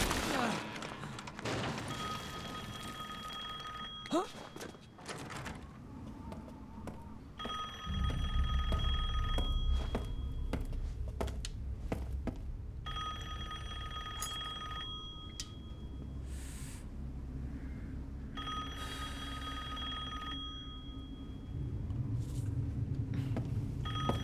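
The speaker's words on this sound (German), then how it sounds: "Telefon." Old telephone ringing in the horror game Resident Evil Village, steady repeated ring bursts over a low droning game ambience and occasional thuds, fairly loud and continuous.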